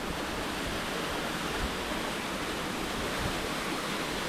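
A waterfall in the Brazilian jungle roars as a continuous, dense rush of falling water, steady and loud with no voices over it.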